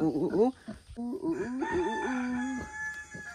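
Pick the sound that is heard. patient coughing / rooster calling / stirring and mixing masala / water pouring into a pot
rooster calling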